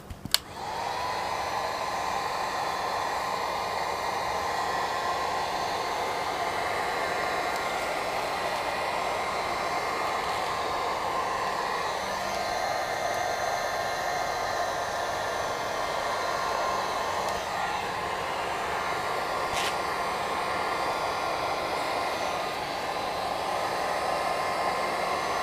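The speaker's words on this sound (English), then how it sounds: "just start using the heat gun again" Heat gun blowing hot air over a wrapped cheap plastic skeleton hand, a loud, steady rushing roar that holds constant for the whole stretch after a brief click at the start.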